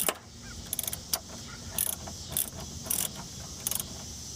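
Plastic coolant drain plug being tightened by hand on a Ford Focus, a series of short ratcheting clicks and scrapes, close and fairly quiet over a low steady hum.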